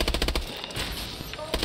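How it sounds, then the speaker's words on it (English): Rapid automatic gunfire in the Call of Duty Exo Zombies video game, bursts of sharp repeating shots at the start and end with a dense wash of firing between, loud and close, no talking. "We're just gonna shoot our way through"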